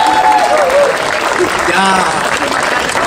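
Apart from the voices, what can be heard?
audience clapping for a singer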